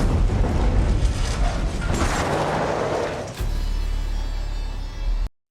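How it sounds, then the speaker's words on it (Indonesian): A film scene: an escort car blows up on a bridge with a heavy booming blast and rumbling debris, followed by a sudden shift to a low, steady roar before it cuts off abruptly. "tiba-tiba salah satu mobil pengawal meledak"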